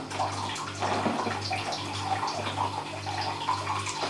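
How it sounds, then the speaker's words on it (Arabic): Very hot water pouring steadily into a basin for washing dishes, a continuous splashing rush with a low hum beneath it. "وراني نعمر في الماء يكون سخون بزاف بزاف"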